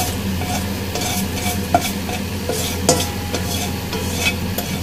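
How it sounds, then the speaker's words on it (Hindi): Fenugreek seeds frying in hot oil for kadhi, a loud close, continuous sizzle with brisk stirring and a few sharp clinks of a spoon against the pan, no voices. "हल्का सा हम मेथी दाने को इस ऑयल में फ्राई करेंगे।"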